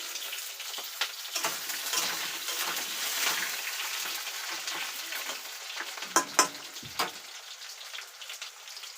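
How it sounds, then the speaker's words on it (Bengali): Pointed gourd and potato pieces fry in a pan with a soft, continuous crackling sizzle, broken by a few sharper clicks and scrapes of stirring near the end. No talking. "পটল ভেজে নিচ্ছি"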